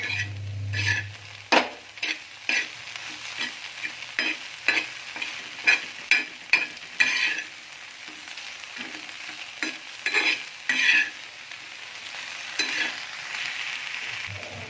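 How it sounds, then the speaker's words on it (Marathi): Okra stir-fried on a tawa with salt being mixed in: a steady sizzle runs throughout, broken by repeated sharp scrapes and clinks of a spatula against the pan at an irregular, busy rhythm. "आता आपण यामध्ये मीठ टाकणार आहोत, आपल्या अंदाजानुसार मीठ टाका आणि मिक्स करून घेणार आहोत।"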